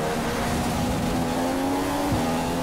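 A Ferrari Formula 1 car in the F1 2015 racing game makes its pit stop, its engine holding a loud, steady drone with tire and car noise throughout, and the pitch dips slightly near the end.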